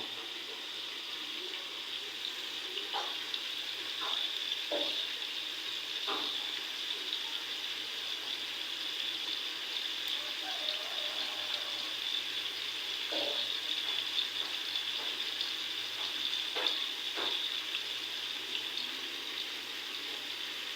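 Fish fries in a pan on a home stove, a steady even hiss at moderate level with scattered faint pops and crackles throughout.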